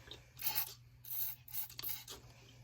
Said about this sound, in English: just blowing pressed air